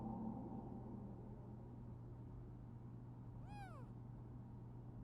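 A single clear cat meow rises and falls partway through, standing out over a constant low hum with no other sounds or voices around it.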